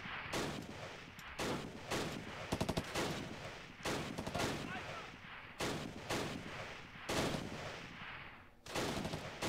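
Bren light machine gun fire rattles in bursts on a World War II battlefield at Arnhem in the Close Combat game, loud repeated volleys with explosions and battle noise filling the whole stretch.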